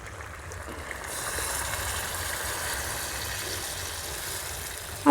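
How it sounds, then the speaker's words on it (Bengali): Hot water is poured into a pot of Bengali-style mutton curry, a soft rushing pour that swells after the first second and holds steady, then ends with a sharp louder burst. "আমি গরম জল দেব"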